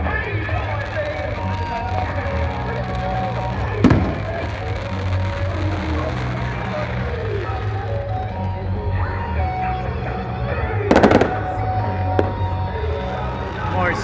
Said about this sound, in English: More citizen fireworks.